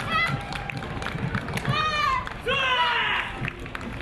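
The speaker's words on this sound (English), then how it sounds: "You can hear the cheers from the street and the crowd loving that one." Street crowd at a Christmas parade in Camarillo in 2018 shouts and cheers with high excited voices, including children, in bursts along the route while people talk around them.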